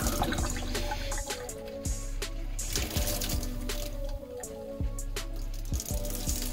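Antifreeze runs from the hot-side faucet of a camper sink, a steady liquid trickle with irregular dripping and splashing into the basin, moderately loud and continuous with faint background noise.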